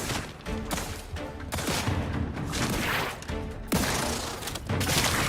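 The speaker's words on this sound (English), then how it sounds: "Okay, why are we exploding?" Repeated artillery explosions in The Outer Worlds, several loud booming blasts in quick succession with crashing bursts between them, no talk over them.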